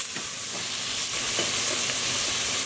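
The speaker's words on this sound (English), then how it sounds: "Now we just want to very lightly cook these together" Onions and carrots cooking lightly in a pan, giving off a loud, close, steady frying sizzle with a few faint stirring knocks.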